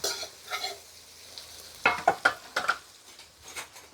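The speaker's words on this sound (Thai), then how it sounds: "พริกกระเทียมที่เราตำไว้ค่ะ ลงไปผัดเลยค่ะ" Pounded chili and garlic are stir-fried in a wok, with a quiet sizzle and a quick cluster of metal spatula scrapes and taps against the pan in the middle.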